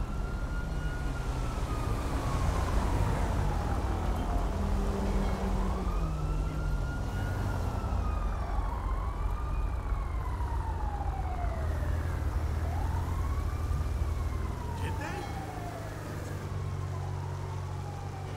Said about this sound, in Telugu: అంబులెన్స్ వస్తుంది ఇటు సౌండ్ వస్తుంది